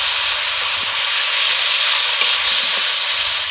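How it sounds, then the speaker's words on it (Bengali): Spice masala for chicken rezala is sautéed with a splash of water, producing a loud, steady hissing sizzle with faint scraping stirs close by. "আমি একটু জল দিয়ে কষাবো যাতে মশলাটা খুব ভালো করে কষানো হয়।"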